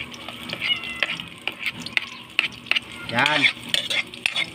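Garlic and onion sauté in a pan over an outdoor fire, a steady sizzle with scraping stirs and clinks, while someone speaks briefly in the middle.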